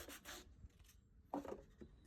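Hand sanding the face grain of a softwood board, with sandpaper backed by a scrap wood block. A few short, quiet rasping strokes come close by, with pauses between them.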